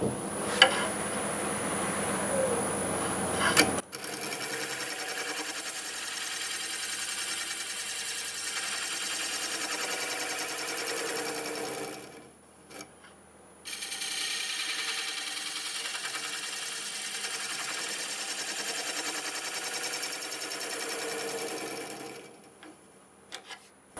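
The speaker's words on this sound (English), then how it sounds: "I'm going to use the negative rake scraper" A negative rake scraper cutting end-grain Siberian elm on a wood lathe, a continuous whirring, scraping hum that runs for several seconds, cuts off briefly, then resumes before stopping again.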